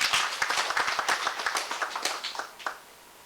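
Audience clapping at a bank account launch event, distinct individual claps from a modest crowd in an irregular patter that thins out and fades toward the end.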